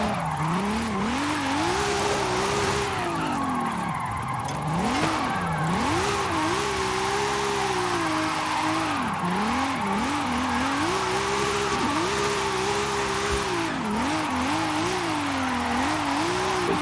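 An A-class car drifting in the racing video game Forza Horizon 5, its engine droning and revving in wavering swells, with tire squeal running continuously and loud throughout the clip.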